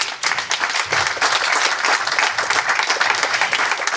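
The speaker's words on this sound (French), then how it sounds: "on peut t'applaudir" Loud applause from a conference audience, dense clapping sustained throughout without a break.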